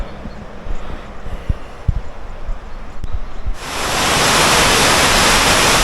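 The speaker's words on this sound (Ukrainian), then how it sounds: "Їду по дорозі, чую, шумить вода. Дивись, водопад" A waterfall along a mountain road in the Carpathians, near Yaremche, comes in as a loud, steady roar of rushing water after a few seconds of quieter rustling and knocks.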